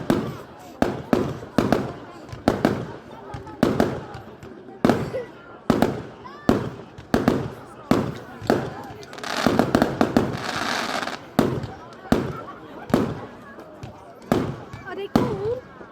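Bonfire night fireworks burst repeatedly in rapid succession, sharp loud bangs and crackling spaced through the whole stretch, with a denser crackling barrage near the middle while people chatter and cheer in between.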